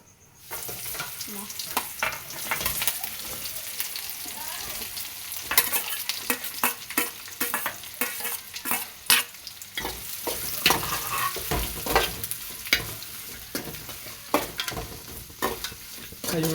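A spiced tempering fries in a pan for a field-bean and lablab-seed dish, a dense crackling sizzle broken by repeated scrapes and knocks of the stirring spoon, close and continuous with no voices.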